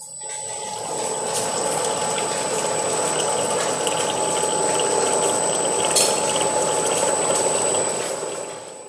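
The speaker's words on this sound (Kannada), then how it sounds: "ಈಗ ನೋಡಿ ಆನ್ ಮಾಡ್ತೀನಿ. ಈ ತರ ಎಣ್ಣೆ ಫಿಲ್ ಆಗುತ್ತೆ ಸರ್ 5 ಲೀಟರ್ಗೆ." A cold-press oil filling machine runs steadily while pouring groundnut oil into a 5-litre jar, a continuous liquid rush over a pump whine with a high tonal hum, starting up and carrying on for several seconds.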